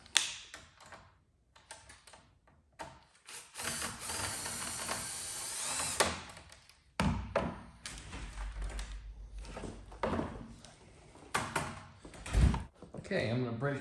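A cordless drill with its clutch set low whirs in short bursts while pinball machine parts are taken apart, mixed with nearby clicks and clunks as someone talks over it.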